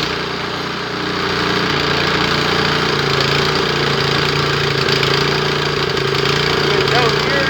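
A Craftsman single-stage 123cc 4-cycle snowblower engine runs steadily nearby, with a constant droning hum and a faint rattle that barely change across the whole stretch.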